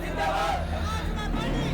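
A large gathered crowd murmurs in a steady, indistinct babble of overlapping voices, with a low hum running underneath.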